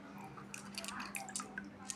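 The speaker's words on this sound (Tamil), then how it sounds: "இந்த 4 ஸ்டோன்ஸையும் இந்த வாட்டர்லேயே கழுவி தான் போடணும்." Small aquarium stones for a betta fish tank are rinsed by hand in water, making faint wet drips, squishes and little splashes scattered across a few quiet seconds.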